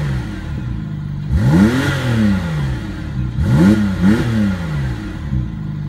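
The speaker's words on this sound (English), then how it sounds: "Still a very impressive flat six sound, especially with the new torque and horsepower levels of this engine." A 2017 Porsche 911 Carrera's warmed-up 370 hp flat-six with the sport exhaust open, blipped in two sharp revs that rise and fall, loud and close, separated by a steady idle.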